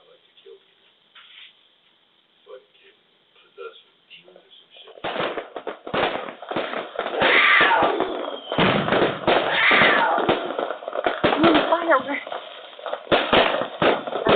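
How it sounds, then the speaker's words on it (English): Fireworks going off, a rapid run of loud bangs, pops and crackles bursting close by after a quiet start, with people talking over them. "fireworks. I love fireworks."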